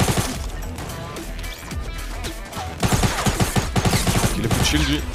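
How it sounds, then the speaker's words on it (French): Small pistol gunfire in a video game comes as a chaotic cluster of sharp shots and impacts, growing denser and louder in the second half amid other game noise, with no clear speech. "C'est bien le petit pistolet, hein."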